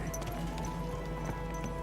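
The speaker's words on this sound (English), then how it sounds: "Easy, good horse." A horse's hooves clop at a walking pace in Kingdom Come: Deliverance 2, several soft, fairly close footfalls over a steady humming game ambience, with no talk.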